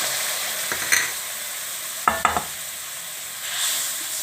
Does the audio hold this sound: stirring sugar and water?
yes